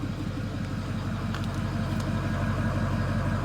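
A 6.4 Powerstroke diesel pickup truck idles just after a cold start, a steady, loud, low rumbling drone with an even exhaust note and no talking over it.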